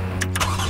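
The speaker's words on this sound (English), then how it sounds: "my car sounds like shit" A car engine that sounds rough runs with a steady low hum, close and fairly loud, with a few brief mechanical bursts over the drone and no talking.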